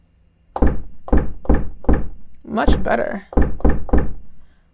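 A punchy, muffled drum machine beat in Logic Pro X through a low-pass filter, dull thumping hits in a steady rhythm, broken by a brief spoken phrase midway.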